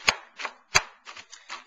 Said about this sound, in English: I'm going to just chop this up a little bit here